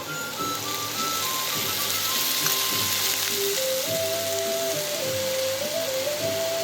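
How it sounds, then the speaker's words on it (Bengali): Butter sizzles in a hot pan for pasta with a steady, soft crackling hiss, joined by a light melodic music line playing in the background. "এবার দিয়ে দিলাম বাটার, একটু মাখন"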